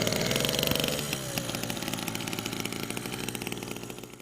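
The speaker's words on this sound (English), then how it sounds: "change a manual pedal bicycle to an engine-powered one" A small engine fitted to a converted pedal bicycle runs steadily with a rapid, buzzing two-stroke-like putter, close and loud, its pitch dropping slightly after the first second and then holding.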